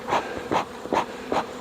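Honeybees in a strong, healthy hive being split from ten frames to eight drone in a close, rising and falling buzz, with four pulsing swells as bees fly past.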